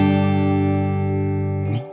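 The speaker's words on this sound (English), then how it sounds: "So there's the spring reverb as well." A Roland Space Echo's spring reverb rings out as a sustained, harmonically rich tone with a metallic, slightly distorted sheen, holding steady for under two seconds before a short splashy decay.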